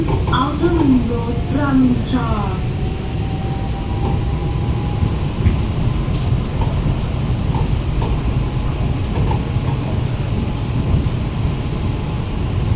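Steady low rumble of a driverless electric skytrain running along rails, with faint squealing tones early on and a constant whooshing drone throughout.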